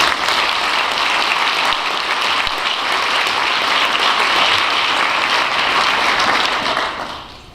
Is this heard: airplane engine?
no